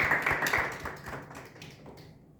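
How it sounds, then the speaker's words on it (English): A live audience claps hands at a business masterclass, a short burst of sharp claps right at the start that quickly thins and fades out over a couple of seconds. "Clap your hands for being important."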